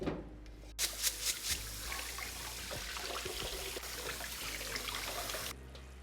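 Beef broth pours into a pot of jollof rice, a continuous close liquid rush and trickle that starts abruptly and stops after several seconds.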